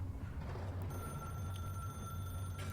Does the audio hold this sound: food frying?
no